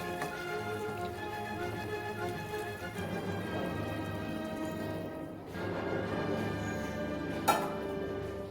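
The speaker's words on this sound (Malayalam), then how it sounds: "വെള്ളം നമ്മുടെ നന്നായി തിളച്ചിട്ടുണ്ട് കേട്ടോ. നമുക്ക് ഇനി ഇതൊന്ന് ഇതിലോട്ട് ഒഴിച്ചു കൊടുക്കാം." Boiling water poured into a pressure cooker holding chicken for biryani makes a steady, rain-like splashing that runs for several seconds and ends in a single sharp clink.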